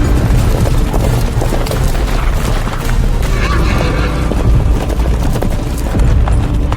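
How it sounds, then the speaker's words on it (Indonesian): A cavalry troop rides into a village in a Muay Thai film, with loud whinnying and neighing horses, clattering hooves and heavy rumbling, dense and continuous throughout. "seisi desa Wakanda dikejutkan dengan kedatangan pasukan berkuda yang diyakini berasal dari kerajaan kota"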